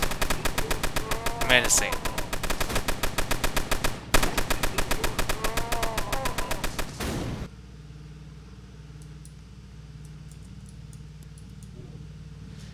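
Mounted gunners in the tower-defense game Tower Battles fire machine guns in fast, dense bursts for about seven seconds, loud and rhythmic, then cut off; a voice speaks briefly over the firing.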